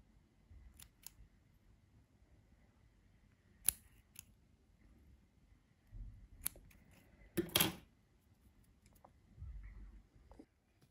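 Scattered crisp snips of scissors cutting thread during needle lace work, a few sharp cuts spaced out over quiet background with faint rustling, no speech.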